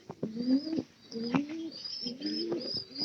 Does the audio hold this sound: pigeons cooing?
yes